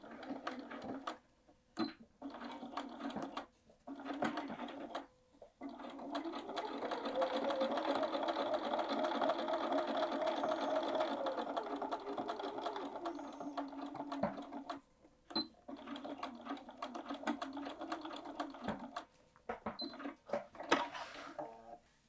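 A domestic sewing machine stitching the main body of a fabric bag runs in a long steady whir for several seconds, framed by short bursts of stitching and pauses at a close, quiet level.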